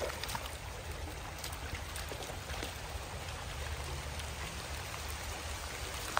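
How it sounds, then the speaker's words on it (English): Steady rain falls and splatters on outdoor surfaces, a dense, even hiss with scattered drop taps throughout, fairly quiet and without voices. "can you see the rain splattering, Patrick?"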